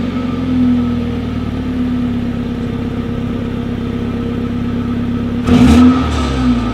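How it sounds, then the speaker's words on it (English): The dual-exhaust engine of a 2018 BMW X2 idles steadily with a low, even hum, then gets one short sharp rev near the end before settling back to idle. "here is that exhaust clip"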